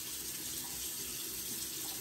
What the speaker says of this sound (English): can you cut the water off?